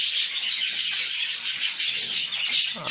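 Japanese finches chirping continuously at close range, a dense, high-pitched twittering that runs the whole time with no talk.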